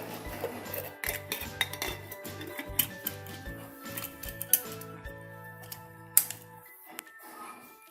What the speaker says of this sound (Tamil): இப்போ வந்து நம்ம இதை மூடி வச்சிடலாம்.